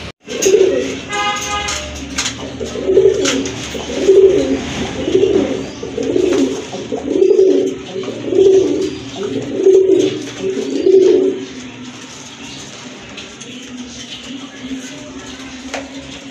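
Pigeons coo in a steady series of about nine low, rounded calls at an even rhythm, close by, then fade to quiet background noise.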